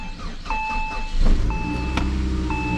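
An old Saab 9-5 at 226,755 on the odometer cold-starts: the engine turns over and catches, rising into a steady idle while a chime beeps at regular intervals.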